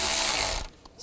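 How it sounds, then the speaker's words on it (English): A ratchet tightens a worm clamp on an intake hose during turbocharger and exhaust manifold work on a 2011-2015 Chevrolet Cruze, giving a close, loud burst of clicking that stops abruptly after about half a second. "tighten the worm clamp down"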